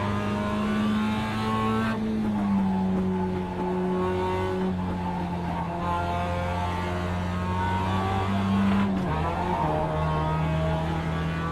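A car in a racing video game drives steadily with a loud, sustained engine drone, its pitch shifting through gear changes and a brief dip around a corner, with no talk over it.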